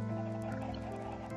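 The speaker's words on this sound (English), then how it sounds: "Well, they have a chicken farm or something." Chickens cluck continuously in Minecraft over a dense, steady background of farm-like game ambience, with no speech.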